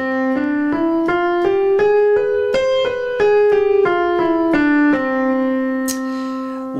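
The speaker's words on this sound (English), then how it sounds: "So let's have a quick listen. So harmonic major, it sounds like this." A harmonic major scale played note by note on a keyed instrument, rising then falling in an even rhythm, with slightly unusual intervals, clear and close.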